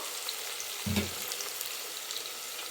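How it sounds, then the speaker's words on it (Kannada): Onions frying in oil for brinjal gojju, a faint, soft sizzle with one brief low thump near the start, otherwise a quiet steady hiss. "ಈರುಳ್ಳಿ ಬಣ್ಣ ಒಂದು ಸ್ವಲ್ಪ ಚೇಂಜ್ ಆಗೋ ತನಕ ಹಾಗೆ ಫ್ರೈ ಮಾಡ್ಕೊಂಬಿಡೋಣ"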